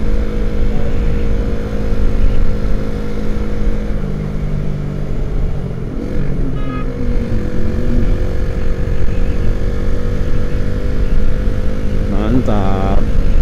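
A 2009 Suzuki Satria FU motorcycle runs at speed while being ridden, a loud continuous engine drone with wind roar that climbs in pitch near the end as it revs harder.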